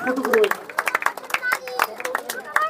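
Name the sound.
applause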